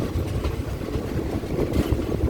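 Rapid train 172 and ordinary train 261 pass at a Thai station with a steady, rumbling roll of wheels and faint clatter, continuous and moderately loud.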